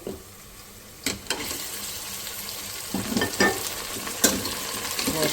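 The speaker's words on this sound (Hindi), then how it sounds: "अब मैं इसके अंदर डालूँगी गोश्त।" Meat dropped into a pan of lightly browned onions for mash daal gosht, sizzling and frying with several sharp bursts of hissing and stirring scrapes, close and fairly loud, no voices.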